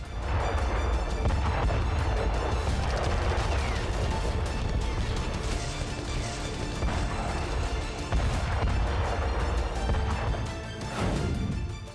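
FAB aerial bombs strike troops in Kursk with a dense, continuous barrage of loud booms and crashing blasts that stay heavy and unbroken for the whole stretch.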